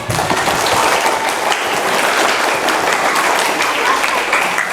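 Loud, sustained applause from a group of primary school students during a museum learning visit, many hands clapping in a dense, steady patter close by with no voices heard.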